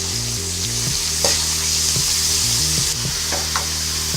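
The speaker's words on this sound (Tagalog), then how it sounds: "Tapos haluin natin to." Cabbage and sautéed vegetables for a bean sprout dish sizzle loudly in a pan as they are stirred, a constant frying hiss cut by repeated scraping strokes, with a low tonal hum running underneath.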